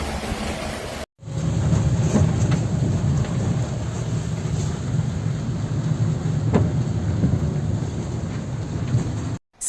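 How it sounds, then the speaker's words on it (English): Severe thunderstorm over Split, Croatia: a constant heavy roar of rain and wind buffeting close by, with occasional cracks and rumbles, cut off abruptly at both ends. "Split was hit by an exceptionally severe storm today"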